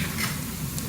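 Ginger garlic paste fries with onions in a pan, giving a brief, steady, close sizzle with faint stirring.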